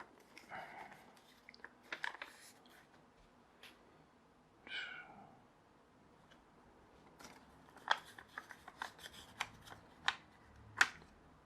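Paper is folded and creased by hand, with scattered crinkles, soft rustles and sharp crisp snaps coming in bursts separated by quiet pauses.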